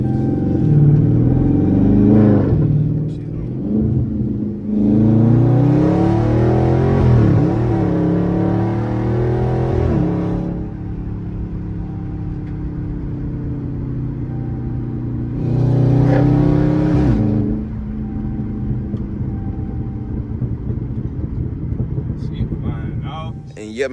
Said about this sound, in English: I'm gonna throw in the clip of me doing the first drive now.